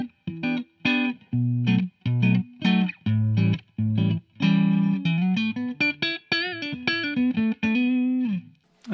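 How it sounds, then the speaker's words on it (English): A Gibson Gary Clark Jr signature SG electric guitar in the middle switch position, with bridge and middle pickups combined. A close, clean-toned riff of choppy picked notes and short bends plays alone, without speech. "Middle position will be your bridge and middle, and it'll sound like this."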